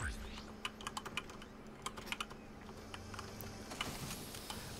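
Clacking on a computer keyboard during a Fortnite gaming session, a quiet, irregular run of sharp key clicks in quick bursts over a faint steady hum.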